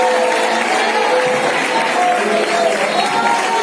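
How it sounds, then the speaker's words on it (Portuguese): A church congregation claps joyfully for Jesus during an evening worship service, a dense, continuous wash of hand claps and crowd noise at a steady, fairly loud level with voices mixed in. "Quem pode bater palmas mais alegres para Jesus?"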